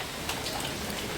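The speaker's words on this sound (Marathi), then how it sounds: "आणि पाऊस डोक्यावर पडत आहे." Steady rain patters down on a family seated outdoors for a meal of rice bhakri and chicken dishes, a continuous soft hiss of drops with no talk.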